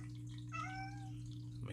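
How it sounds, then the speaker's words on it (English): A pet cat meows once indoors, a single short, faint cry heard over a steady low hum. "My cat's meowing like crazy, as you can hear."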